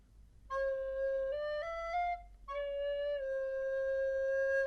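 Clear, steady recorder notes with a pure, smooth tone, a few held pitches played in sequence with a short break between phrases.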